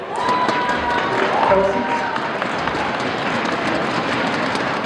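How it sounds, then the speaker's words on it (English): Live audience cheering and whooping in a continuous loud roar at a PUSO Foundation sing-along event, steady throughout with a brief swell. "I like this crowd, they cheer after everything"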